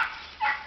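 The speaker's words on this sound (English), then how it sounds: "This is my dog, Pate." A six-month-old cow pup dog gives a short bark or yip, one brief close burst standing alone with no talking.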